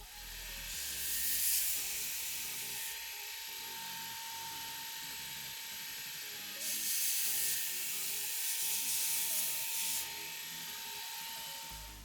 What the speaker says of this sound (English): switch over to a slack 240 grip belt to round everything over